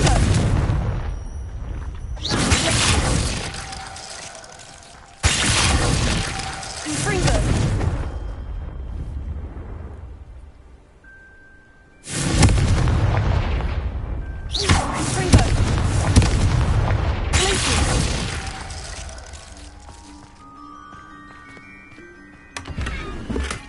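Confringo spell explosions in Hogwarts Legacy on PS5: a string of loud, close blasts, each with a sharp boom that decays over a second or two. Quieter gaps and faint game tones sit between the bursts.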